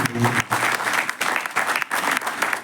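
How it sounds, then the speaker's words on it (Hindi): Audience applause fills the room, a dense steady clatter of many hands with brief dips, fairly close and loud, with no talk over it. "शानदार ताली"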